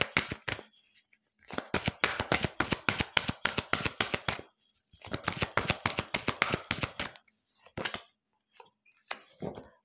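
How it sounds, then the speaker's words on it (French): Tarot cards riffle and flick in quick bursts of crisp slaps, two long shuffling runs followed by a few short snaps as a card is drawn, close and clear, with a voice speaking at times. "Alors, on va tirer une deuxième carte."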